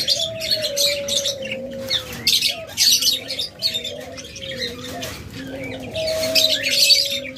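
Active pet birds, a breeding pair of Japanese birds kept for sale, call nonstop nearby, with soft repeated cooing notes running under bright, scattered chirps and tweets.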